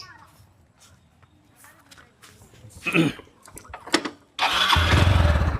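A vehicle engine starts up and settles into a loud steady idle in the final second or so, preceded by shuffling movement and brief speech nearby.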